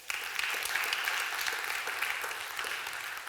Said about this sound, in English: Can we applaud them as well?